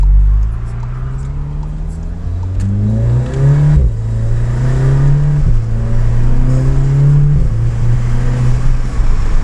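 Volkswagen Golf R engine fitted with a new air intake, revving and spooling up in repeated rising pulls with off-throttle drops, heard from inside the car at steady close range.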